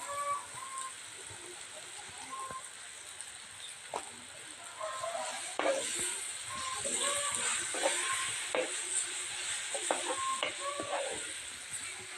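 Pieces of food sizzle and fry in a pan, a steady crackling hiss with occasional stirring clatter and scraping throughout, close and moderately loud with no talking.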